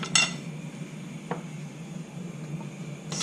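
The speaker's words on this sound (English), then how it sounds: "Stir it up." A utensil stirs sweet and sour pork sauce in a pan, with a sharp metallic clink at the start, a few light taps and scrapes, over a steady low hum of the kitchen.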